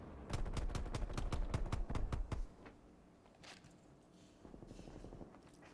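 Rapid burst of about a dozen loud gunshots in an Xbox video game, played over remote play, then a quieter stretch with a few distant thumps and faint background noise.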